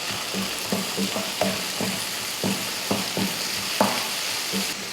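Onions and moong dal sautéed in a pan for a South Indian kuzhambu: a steady sizzle broken by a dozen or so rhythmic scraping stirs of a spoon across the pan, close and fairly loud, with no voices.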